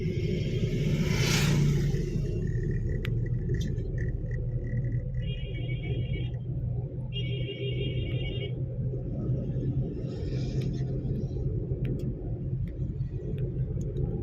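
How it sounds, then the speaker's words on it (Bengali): A car drives on a highway near a toll area, with a steady low engine rumble and road noise, a passing whoosh early on, and brief beeping tones in the middle. "দেখছো গাড়ির সাউন্ডটা এখন মিষ্টি হয়ে গেছে।"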